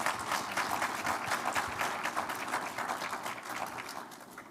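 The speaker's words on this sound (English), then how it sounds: "Please give a round of applause to our distinguished panelists." Audience at the UNCCD COP16 conference applauding its panelists, a steady bed of many hands clapping heard from a distance in a large hall, fairly soft and slowly tapering.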